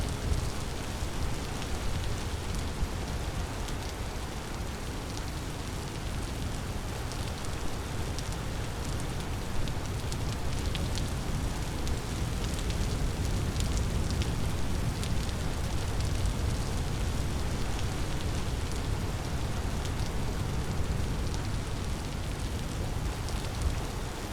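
Rain falls steadily in a forest in the game Vintage Story, an even, dense patter and hiss that continues without a break and with no voices.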